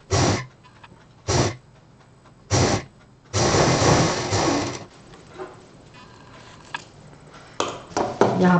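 Sewing machine stitching a fabric strip straight for a handbag, heard as short separate bursts of whirring followed by a longer continuous run, close and fairly loud, with a softer hum and clicks between runs.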